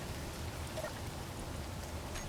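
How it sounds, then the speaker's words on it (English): Rain in the video game Space Engineers, a soft, even patter of drops on surfaces, fairly faint and continuous for a couple of seconds. "And it's raining again."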